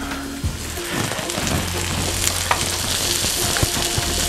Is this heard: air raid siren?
no